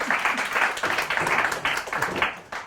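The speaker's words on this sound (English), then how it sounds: "So a big round of applause, please, for Des O'Connor." Crowd applause welcoming Des O'Connor onstage, a burst of clapping that rises and falls in waves over a few seconds before dying away.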